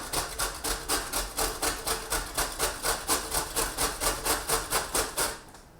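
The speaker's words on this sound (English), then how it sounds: "Move your fingers away as you get close. Remember, this grater is sharp." Vegetables scraped against a sharp hand grater in about sixteen quick, even rasping strokes, close and fairly loud, before stopping abruptly near the end.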